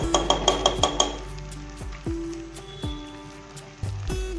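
Brinjal curry mixture with tamarind pulp is stirred in a pan. A rapid run of spoon clinks against the metal gives way to slower, spaced scrapes over a soft sizzle, with no talking.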